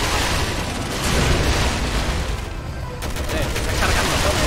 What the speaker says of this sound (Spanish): ¿Estás disparándole con la ametralladora o no?